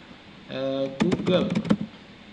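Brief, quick clatter of keys on a computer keyboard during a Google Docs session, heard close under a speaking voice.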